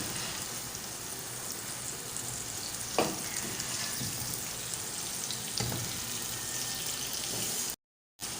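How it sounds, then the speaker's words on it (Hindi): Fried koftas settle into a ghee-rich gravy, which sizzles as a steady, dense hiss. A couple of soft bumps sound as they go in, and the close, even frying noise continues with no talk. "अब मैं इसके अंदर जो मैंने कोफ्ते फ्राई करके रखे हुए थे वो मैं डालूँगी।"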